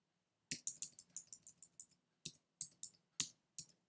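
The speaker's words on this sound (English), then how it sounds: "put it back in now by typing it" Fast bursts of computer keyboard typing, close and crisp, while a word table is edited: a quick run of keystrokes, a pause, then several more separate taps, with no voice.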